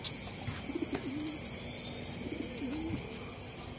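Racing pigeons in a training box give a few soft, faint coos in two short bursts over a steady background hiss.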